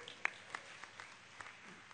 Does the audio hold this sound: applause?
yes